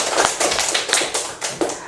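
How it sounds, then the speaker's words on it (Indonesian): Classroom students break into applause for their classmates, a quick run of sharp, bright claps in an uneven rhythm, fairly close and with no talking. "Bapak berikan tepuk tangan dulu untuk kalian semua ya."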